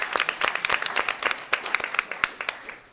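Light, scattered applause from a small audience at a school board of education public meeting, with individual claps clearly distinguishable at a moderate distance.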